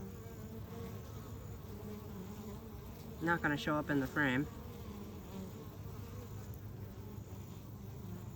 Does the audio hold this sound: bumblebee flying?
yes